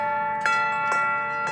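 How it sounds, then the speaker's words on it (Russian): An outdoor musical instrument in the Sestroretsk park in Klin chimes like bells, giving a steady ringing drone with three brighter struck accents and no talking. "О, видите, как колокольный звон."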